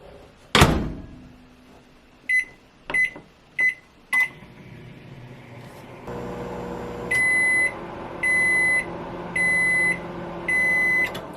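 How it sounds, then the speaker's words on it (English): A microwave oven heats a mug cake. A door thunks shut, a few sharp clicks and beeps follow, then the oven hums steadily for a while and gives a series of five loud, evenly spaced beeps. "put our mug cake in a microwave for 50 seconds"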